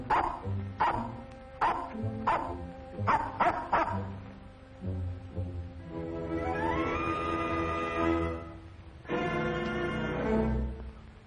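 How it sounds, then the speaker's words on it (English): A dog gives a series of sharp barks, then a longer whining, howl-like stretch, followed by more barking, all fairly close and without talking. "What the dickens are you barking at?"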